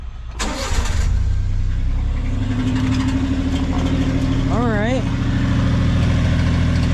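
A Honda Acty kei truck fitted with coilovers and an aftermarket exhaust cranks and starts, then settles into a steady, loud idle up close, with a brief wavering pitch near the end and a short spoken remark.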